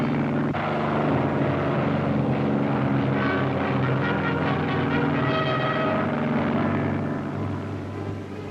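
WWII Japanese carrier planes attacking Midway: a loud, continuous propeller-engine roar with a throbbing drone that swells midway and slowly fades toward the end, with no voices.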